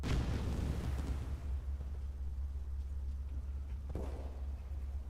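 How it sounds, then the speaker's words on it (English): An artillery barrage in Call of Duty Black Ops Cold War: a heavy blast opens over a constant deep rumble, then a second, fainter distant boom follows a few seconds later, with no voices. "Artillery barrage on the enemy!"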